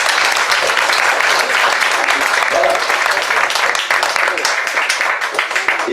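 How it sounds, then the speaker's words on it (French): A crowd gathered for a book festival presentation keeps up steady, full applause for the host, thick and continuous, with a voice speaking briefly over it. "je crois que vous pouvez l'applaudir pour commencer"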